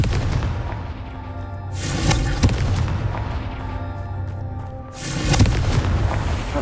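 A Confringo fire spell exploding in Hogwarts Legacy gameplay: a couple of loud booming blasts, the first about two seconds in and the second near five, each ringing out against a steady low rumble.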